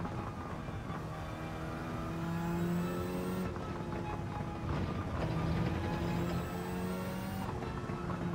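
A Subaru WRX STI race car engine revs hard and steadily, its tone climbing in two sweeping rises that drop back abruptly, loud and close throughout.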